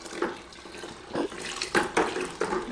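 Filtered water runs from a sink tap into a container while soap is stirred for homemade laundry detergent, giving close, irregular splashing and sloshing bursts.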